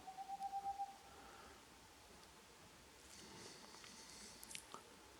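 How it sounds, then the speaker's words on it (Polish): An owl calls from a tree at night with a quick burst of about six soft hoots at the start, then quiet night air with faint rustling. "Z którego sowa się odzywa."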